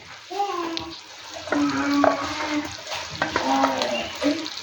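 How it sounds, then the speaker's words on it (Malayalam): A thick ground paste hits a hot pan of sautéed ingredients for a Kerala dried-prawn theeyal and sizzles, with stirring and scraping, while a voice speaks in short phrases over the cooking. "അതിലോട്ട് ഞാൻ അരപ്പൊഴിക്കുകയാണ്."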